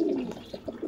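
A pigeon gives a brief, soft coo close by, a low throaty call of a couple of pulses heard on its own for under a second.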